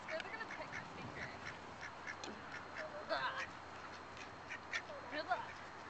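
Ducks crowd in and quack repeatedly while being fed, their calls overlapping in a busy, close chorus. Children and adults talk excitedly over them.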